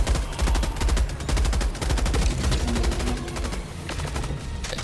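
A heavy machine gun fires in the video game Helldivers 2, a loud, steady rapid-fire stream of shots running almost the whole time with brief gaps, close and dominant.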